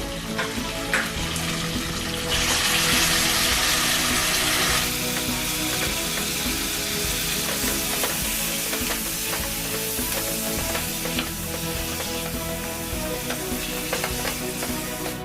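Half a kilo of mutton fries and sizzles in a pot with pepper, chili and coriander leaves for mutton harees. A loud, steady, close sizzle runs throughout, with a brighter hiss burst early on and faint stirring clicks.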